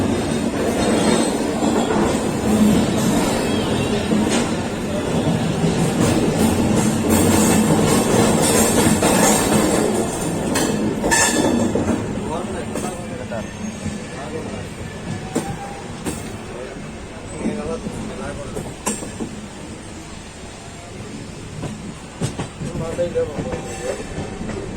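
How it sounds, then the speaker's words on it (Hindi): A Rameshwaram-Banaras superfast express train pulls out of Itarsi Junction after a ten-minute stop, carriages rumbling and wheels clacking steadily on the rails, loud at first then easing, with a voice talking over it. "10 मिनट के स्टॉपेज के बाद हमारी ट्रेन इटारसी जंक्शन से निकल गई है।"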